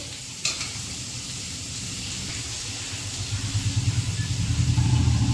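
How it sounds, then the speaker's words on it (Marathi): Asafoetida dropped into hot oil for a drumstick-leaf vegetable dish gives a steady close sizzle and frying hiss, with a soft thump near the start and a growing crackle toward the end. "आता याच्यामध्ये थोडासा हिंग टाकून घेते।"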